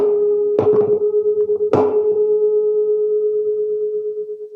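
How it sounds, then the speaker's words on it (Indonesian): Two slightly detuned tuning forks, each struck in turn, ring together in a steady pure tone that swells and fades in regular beats, with two sharp strike clicks near the start. "yang barusan kalian dengarkan itu adalah pelayangan bunyi. Jadi bunyi yang terdengar seperti keras lemah yang berulang-ulang"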